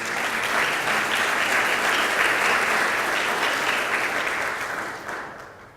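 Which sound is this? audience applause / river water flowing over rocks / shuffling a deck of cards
audience applause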